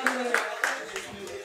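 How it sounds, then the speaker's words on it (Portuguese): A small crowd at a Dragon Ball FighterZ tournament prize ceremony gives the runner-up a few scattered claps, with sharp hand strikes standing out near the start and a spoken voice continuing beneath. "Palmas!"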